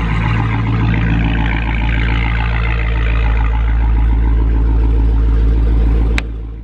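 A Dodge Demon with a modified exhaust rumbles loudly and close at a steady idle, a deep throbbing drone that holds evenly before dropping off abruptly near the end.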